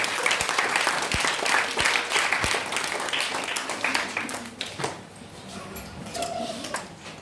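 Audience applause welcoming a concert at a church gathering, dense sustained clapping that fills the space, loud at first and gradually thinning out toward the end.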